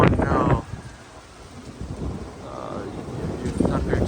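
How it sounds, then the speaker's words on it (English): Low, rumbling thunder rolls beneath gusty wind and rain during a storm in Prague, with heavy wind buffeting at the start and again near the end. "You hear thunder too."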